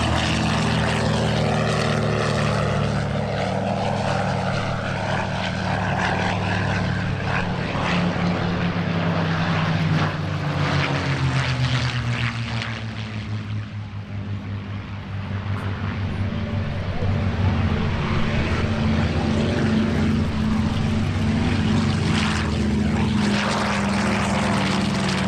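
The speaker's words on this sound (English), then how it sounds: "with nine Dakotas performing a flypast" Nine Douglas Dakota propeller planes roar past together in a formation flypast at EAA AirVenture Oshkosh, a loud, sustained multi-engine drone with beating propeller tones that dips briefly mid-pass and then swells again.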